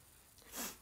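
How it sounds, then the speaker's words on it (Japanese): A single loud sneeze bursts out near the mic after a brief quiet breath, sharp and close. "これが噂の声より大きいくしゃみです。"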